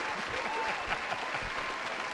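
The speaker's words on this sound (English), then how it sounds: "give her a special round of applause" An audience at a stage show bursts into brief, lively applause, a dense crowd clapping with faint voices mixed in.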